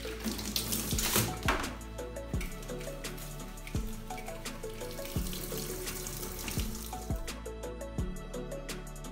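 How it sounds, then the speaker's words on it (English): A washing machine fills with water for rubber mats that were soaked in vinegar. The water rushes steadily throughout under louder background music with a beat. "Then I add it into the washing machine."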